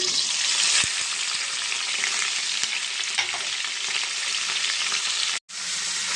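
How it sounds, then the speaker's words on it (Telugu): Mutton frying in about three spoons of oil in a pan, a steady loud sizzle running continuously with a couple of faint utensil taps and a brief cut near the end. "ఒక మూడు స్పూన్లు ఆయిల్ వేస్తానండి దీంట్లో ఫ్రై చేస్తాను"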